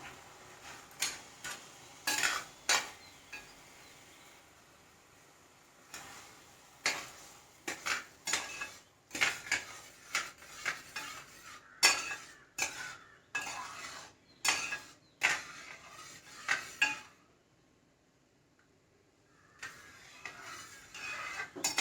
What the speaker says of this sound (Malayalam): ഇനി നമുക്കിതിലേക്ക് ഈ ശർക്കര പാനീയം കൊണ്ട് ഒഴിച്ചു കൊടുക്കാം